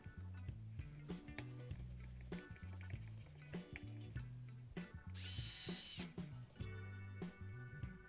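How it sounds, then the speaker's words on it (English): Power drill driving screws into pallet board wood for a clamp rack, several short bursts of whirring motor with pitch shifts as each screw bites, separated by brief pauses, close and loud. "I'm adding some glue and 2 screws in each side, piloting down through into the brackets."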